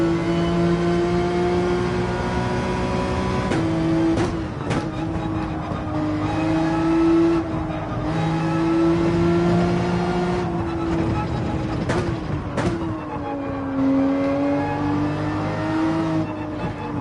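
Porsche 911 race car in Gran Turismo 7 holding a steady, loud engine drone with several brief gear-shift dips and revs, continuous through the whole stretch.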